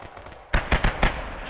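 Four heavy, sharp explosions from an artillery barrage in Call to Arms: Gates of Hell (Gates of Steel mod) land in quick succession over a low battlefield rumble. The blasts are loud and close together.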